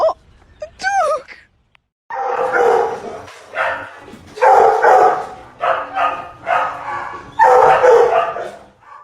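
A dog barks and yips in a home, with loud, excited barks filling most of the stretch and a few short whimpering notes at the start.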